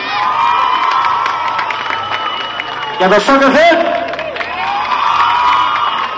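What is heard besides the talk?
carnival crowd cheering and applauding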